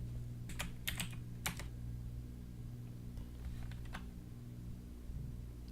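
Commands typed on a computer keyboard into Git Bash, with soft clustered key clicks in short bursts separated by pauses over a steady low hum, no talking.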